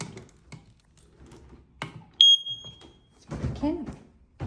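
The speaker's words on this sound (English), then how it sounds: "let's test the smoke alarm" A smoke alarm in a house entry hall is tested, letting out one sharp, loud high-pitched beep partway through, with people talking quietly before and after it.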